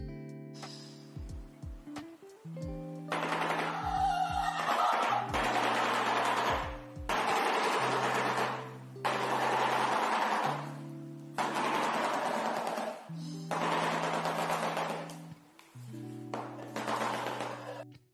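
A shoebill's bill clattering comes in several loud, rapid machine-gun-like bursts separated by short pauses. A low synthetic musical tone sounds underneath.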